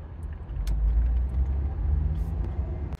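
Car driving in traffic near Tysons, Virginia, heard from inside as a steady low road rumble and engine drone with a few faint clicks, ending abruptly, no talk.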